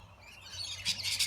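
Galahs, ducks and other birds chirping and calling faintly in a relaxed afternoon outdoor feeding spot, with a couple of brighter chirp bursts near the end over low background hum.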